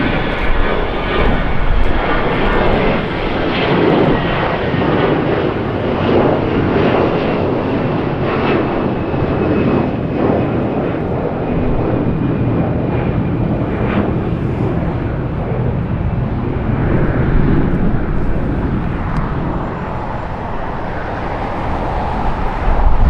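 An Airbus A320neo airliner passes at Los Angeles International Airport with a loud, broad engine roar that holds steady throughout and fills the scene.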